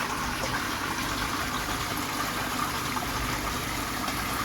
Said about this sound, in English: You see the water now gushing back out there after I clean the crap out of the cage.